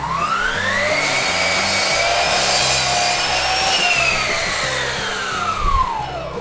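A Bosch GCM 18V-305 GDC cordless sliding miter saw cuts through a workpiece, its motor whining steadily at close range as the blade glides across for several seconds.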